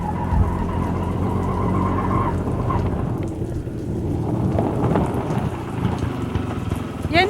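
Heavy rain pours steadily throughout, a dense rushing wash heard from inside a moving vehicle with engine rumble underneath and brief voices.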